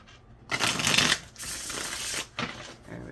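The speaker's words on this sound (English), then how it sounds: "And I want to shuffle now." A deck of tarot cards is shuffled close by in quick riffling bursts with short pauses between them, and no talking.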